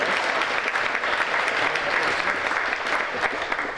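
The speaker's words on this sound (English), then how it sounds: "Let me give them a round of applause." An audience at a chamber of commerce awards gala gives a round of dense, sustained clapping that stays loud and even for a few seconds, with no voice over it.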